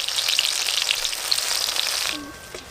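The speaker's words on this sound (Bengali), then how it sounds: "পেঁয়াজগুলো ভালো করে ভাজা ভাজা হয়ে গেছে" Onions sizzle steadily in hot oil in a pan while a pangas fish kalia is being cooked. The frying stays loud and close, then abruptly drops to a faint hiss near the end.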